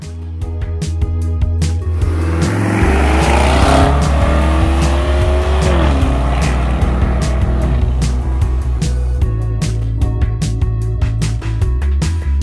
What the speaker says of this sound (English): Idemo sad malo da provozamo Urusa, tačnije Conor će ga provozati i penjemo se na off-road